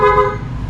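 Horn of a Yamaha NMAX V2 scooter sounds close and loud in one steady toot of under a second, fading slightly toward the end.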